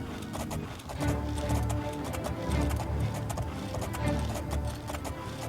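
Horse hooves clip-clop at a steady galloping rhythm while riding through the open world in the Oblivion video game, loud and continuous and heard alone.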